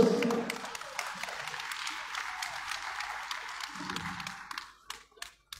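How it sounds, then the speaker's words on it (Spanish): Applause from an audience at an anniversary celebration of an alternative education centre, a steady crackle of many clapping hands for about five seconds, then thinning into a few scattered claps. "Recibamos con un fuerte valor de aplausos."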